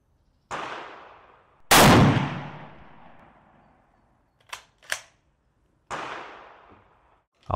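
Kar 98 bolt-action rifle fired outdoors, with two loud booming shots that each trail off in a long decaying echo, a pair of short sharp clicks between them, and a third report near the end.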